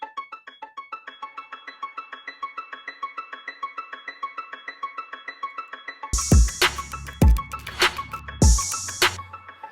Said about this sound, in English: And then we add the echo.